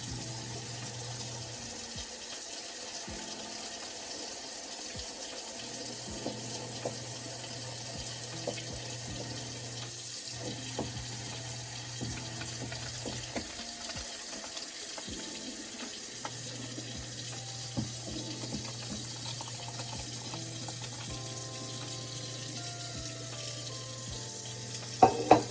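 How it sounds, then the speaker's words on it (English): Water from a pot of boiled shell pasta pours slowly through a strainer into a kitchen sink. A steady, soft rushing spatter runs for the whole stretch with small clinks, and no one talks. "Drain the water down."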